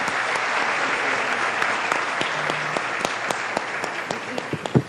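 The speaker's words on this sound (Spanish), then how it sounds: "Eso merece un aplauso" An audience at a sustainable tourism panel breaks into lively, sustained applause that starts dense and gradually thins into a few sharp, separate claps at the end.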